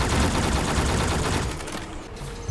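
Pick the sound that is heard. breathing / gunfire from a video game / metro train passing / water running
gunfire from a video game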